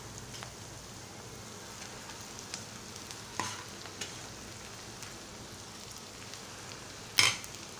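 Cooked rice and fried onions are stir-fried together in a pan for phodnicha bhaat, a soft, steady sizzle with occasional spatula taps and one sharp scrape near the end.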